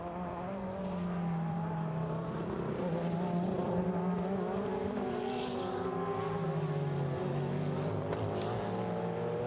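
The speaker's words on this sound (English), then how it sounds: "Mathieu Jaminet is winding up that Porsche 963" A Porsche 963 prototype race car engine winds up at the 12 Hours of Sebring, a loud sustained harmonic roar climbing in pitch with other racing engines layered beneath, no speech over it.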